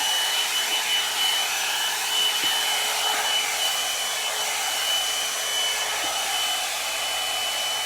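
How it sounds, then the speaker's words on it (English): A rose gold blowout brush hair dryer runs steadily, a loud, even airy whoosh with a faint high whine, close by and uninterrupted, with no talking. "we're gonna run the dryer through it"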